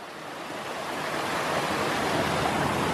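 Broad, steady rush of water tumbling over rocks at the base of waterfalls in Pattaya, close and continuous, swelling slightly in loudness, with no voices.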